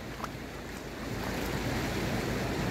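Floodwater flowing through Queen's Park in Phuket Town during the October 2022 flood, a steady broadband rushing wash that grows slightly louder, with outdoor wind noise and no talk.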